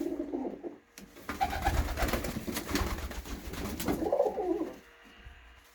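Pet pigeons coo in soft, repeated throaty rolls close by, with a denser burst of overlapping calls in the middle and quieter cooing toward the end.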